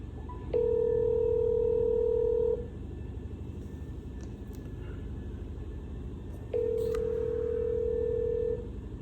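Desk telephone being dialed for a sales lead call: two long, steady electronic tones, each about two seconds, with a quieter hum between them and no talk.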